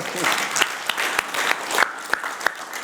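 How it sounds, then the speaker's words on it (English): Audience applause at a Bitcoin SV presentation, a brief burst of clapping with distinct individual claps standing out near the end. "Give that a round of applause."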